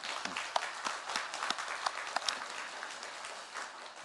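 A church congregation claps for its elders on Parents' Sunday, a soft, steady patter of many hands heard from a distance, with no talk over it.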